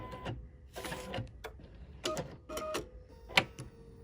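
Embroidery sewing machine tying off a knot and trimming its thread, a few quick mechanical bursts of whirring and clicking separated by short pauses, close and fairly quiet.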